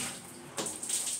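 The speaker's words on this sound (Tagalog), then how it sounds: "Mabuhusan ko to ng tubig." Water poured out while cleaning with chlorine, a soft gush that swells about halfway through and keeps running, fairly quiet and close.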